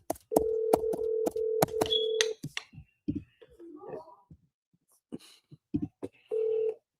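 A phone call is placed: a rapid run of short keypad tones, then a lull with a brief voice, followed by a longer ringing tone near the end.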